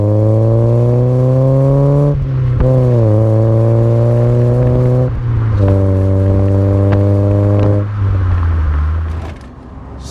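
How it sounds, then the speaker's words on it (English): Eunos S-Special II with a Cobalt exhaust, engine droning loud and close in a steady hum that shifts pitch between gear changes before fading near the end, with no talk over it. "that cobalt exhaust sounds beautiful"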